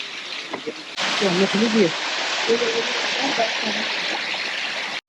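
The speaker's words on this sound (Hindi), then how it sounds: "तो ये यहाँ का छोटा सा मैन मेड वाटरफॉल." Steady rushing water from a small man-made waterfall at a garden in Mussoorie, a constant splashing wash that starts loud after a second and runs under a man's speech.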